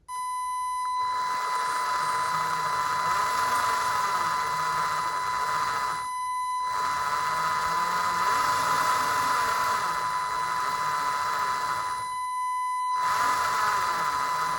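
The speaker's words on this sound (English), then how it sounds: "Just going to turn the boat on, and we're going to go nice and slow" Motors and gears of a 1:200 Trumpeter radio-control Titanic model run slowly, making a steady, fairly loud high-pitched whine that cuts out briefly twice.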